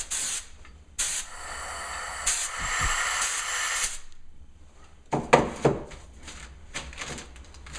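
A spray gun spraying clear coat on kitchen cabinets hisses in bursts, first short blasts then a longer sustained spray, followed by several quick shorter bursts, close and fairly loud.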